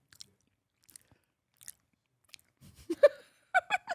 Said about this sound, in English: I hate when people chew loudly, and this is a nightmare happening.